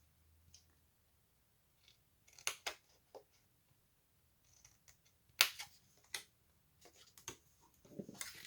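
Scissors snip small tabs of paper for a handmade pen box, giving scattered close, crisp cuts separated by quiet pauses, some in quick pairs, against a near-silent room.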